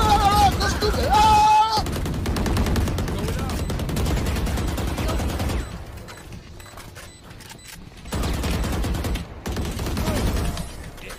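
Video game gunfire crackles in dense, rapid bursts like an automatic weapon, loud and close, with short pauses and a quieter stretch before the shooting resumes.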